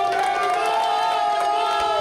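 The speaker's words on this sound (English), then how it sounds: "put your hands together for Jason Phillips" A crowd at a poker final table cheers and whoops loudly and continuously for a player, shouts and hollers overlapping in one sustained burst.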